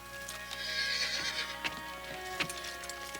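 A horse clip-clops and neighs loudly and close by in a frontier western setting, with a whinny over the top and a few sharp hoof knocks standing out, and no voices.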